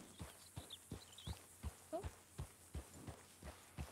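Horses walking nearby, hooves clip-clopping in a steady, evenly spaced rhythm of about ten soft thuds, fairly faint and close, with a faint murmur in the background.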